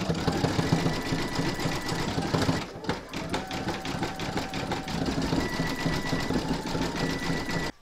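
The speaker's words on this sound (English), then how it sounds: "you're going to stitch round number six, and that's going to do all the satin stitching all around the edge" An embroidery sewing machine rattles steadily at close range while satin stitching around the edge of a large reindeer applique, with a brief pause midway before the fast mechanical chatter resumes.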